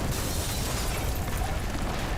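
A powerful blast at sea near Visakhapatnam harbour sounds as a loud, sustained, rumbling roar that fills the whole clip with dense, broadband noise, with no speech.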